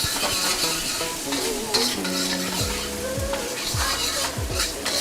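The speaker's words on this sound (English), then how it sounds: "our bacon, we're at about medium heat right now, maybe just past medium heat" Bacon sizzling and rendering in a wok over roughly medium heat on a single burner, with a dense, constant frying crackle close up and repeated stirring scrapes and metal clinks layered over it.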